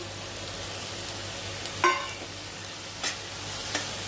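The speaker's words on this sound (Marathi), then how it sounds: "आणि परतून छानपैकी घ्यायचं" Onion-garlic masala with Kashmiri chilli powder, turmeric and salt sautéed in oil in a pan, a soft steady sizzle broken by a few sharp scraping strokes of a spoon, close and moderately quiet.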